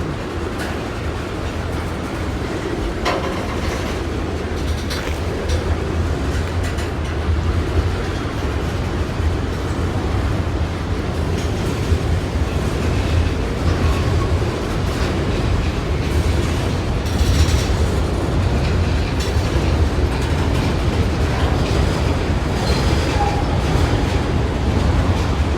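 A CSX freight train hauling coal rumbles past at close range, its steady low roar and rolling wheel noise continuing loud and unbroken throughout, with faint clicks from the passing cars.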